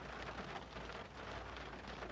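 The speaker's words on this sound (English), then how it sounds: "Raindrops keep falling on me car." Rain falling on a car, heard from inside as a steady, dense hiss of drops on the roof and glass, continuous and fairly quiet with no voices.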